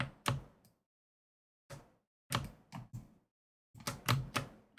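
Computer keyboard keys are struck in short irregular bursts of sharp clicks and clacks, with pauses between groups, close and fairly quiet in an otherwise silent room.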